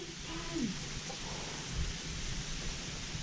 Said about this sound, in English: You hear that rain out there?